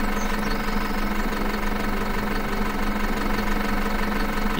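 A tractor engine idles and runs steadily in Farm Manager 2018, a continuous low mechanical drone with a faint knocking throb that holds at an even level throughout, with no voices.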